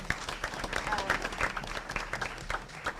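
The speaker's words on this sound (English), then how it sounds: "I think we need to give Shelley and Mary a appreciation applause" Audience at a city hall meeting claps in appreciation, a thin, uneven patter of hands heard from a distance with murmured voices underneath.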